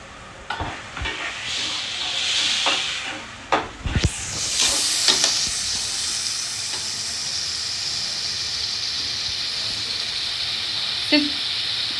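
Potatoes frying in a home kitchen pan give off a loud, steady sizzle that flares as water is poured in, with stirring scrapes and clatter near the start, then a sustained hissing steam that carries on alone to the end.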